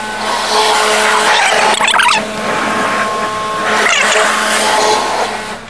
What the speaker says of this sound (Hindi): ऑलमोस्ट खत्म हो चुका है कार वॉश, फाइनल पे चल रहा है